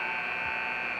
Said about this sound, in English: Casey Sanders will check in for Duke at the buzzer.